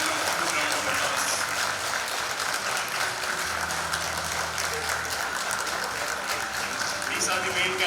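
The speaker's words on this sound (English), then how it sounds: "giving them a full round of applause." An audience at a Mumbai Climate Week session on panchayats leading climate action applauds grassroots change-makers, sustained dense clapping at a steady loud level with faint voices and a low hum underneath.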